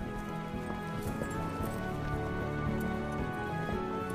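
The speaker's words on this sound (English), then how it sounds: "Their working animal is the Maremmano, a horse known for its sure-footedness and agility in difficult terrain" Maremmano horses, sure-footed working horses of Tuscany's cattle herders, moving over rough terrain, their hooves giving a steady, soft clip-clop under dense ambient noise.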